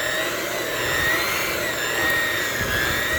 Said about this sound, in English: I'm going to whisk it together because of the consistency that I want.